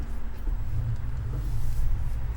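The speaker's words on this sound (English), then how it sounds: "The engine sound of the truck is not broken" Low, steady engine rumble of a Chevy Silverado 3500HD pickup truck in Farming Simulator 2015, idling or cruising, continuous and fairly loud with no voices.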